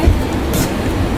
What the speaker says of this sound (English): A red train.